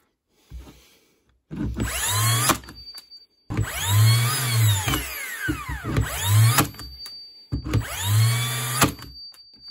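Bosch GNH 18V-64 M cordless nailer driving nails into wood: three loud, close shots, each a rising whir and hard thump, the middle one stretched with repeated firings, separated by short quiet gaps and no talking.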